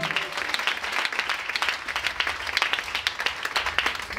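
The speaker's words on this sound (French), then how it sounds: "Acclame puissamment Jésus" A church congregation applauds loudly and steadily for a few seconds, a dense close wash of clapping with no pauses.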